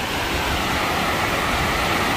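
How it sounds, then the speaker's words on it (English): Steady, dense roar of a waterfall, continuous broadband rushing water with no breaks, fairly loud and heard alone. "we're going to check out the waterfall. I've never seen a real true waterfall before"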